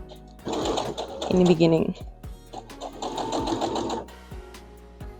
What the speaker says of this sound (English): And now you just sew same way as you did before